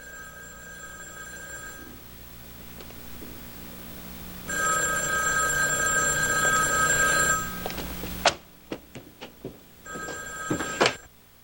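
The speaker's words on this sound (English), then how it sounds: "And if the phone rings..." An old-style telephone bell rings in bursts, first clear and loud, then repeated sharp rings with short gaps as it continues alone in a quiet room.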